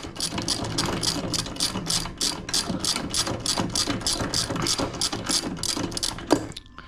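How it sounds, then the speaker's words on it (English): A ratchet with a 5/8 spark plug socket loosens the spark plug on a Redmax EBZ8560 backpack blower, giving a steady run of about twenty rapid, even clicks up close, with no talking. "Then you take your 5/8 spark plug socket, get it set, and she's basically pretty just snug in there."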